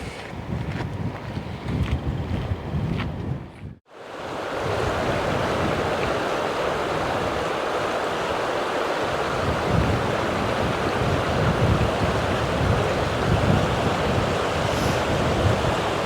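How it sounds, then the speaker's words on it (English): Wind roars steadily at an exposed scenic spot, a broad, continuous rush that is briefly interrupted by a short gap before building back to a constant, loud blast. "As you can hear, it's a bit windy."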